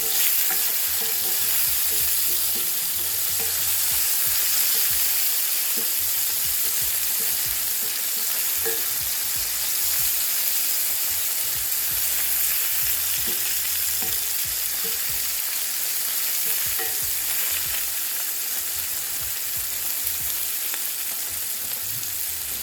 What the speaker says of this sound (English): I'm going to go in with the onions and just saute them for a couple minutes